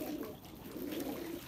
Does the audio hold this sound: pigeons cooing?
yes